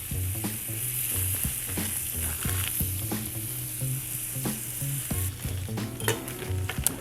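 A stick of unsalted butter sizzling and crackling in a hot pan, with a steady frying hiss and scattered pops throughout, heard close up without speech.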